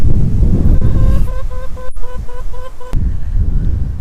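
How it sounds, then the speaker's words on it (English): Heavy wind buffets the microphone with a constant roaring rumble, while a steady repeating tone pattern sounds faintly in the middle of the clip. "I think you can hear how windy it's getting"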